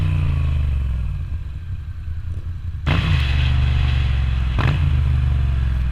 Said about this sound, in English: I just love making that exhaust note rev as I slow down to my venues